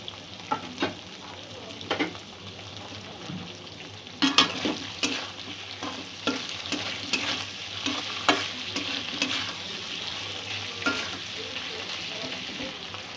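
Pieces of sweet potato frying in hot oil in a pan, a continuous quiet sizzle broken by repeated sharp spatula scrapes and clinks against the metal as they are stirred, close by.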